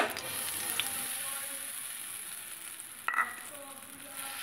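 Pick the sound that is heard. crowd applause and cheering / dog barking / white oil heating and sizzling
white oil heating and sizzling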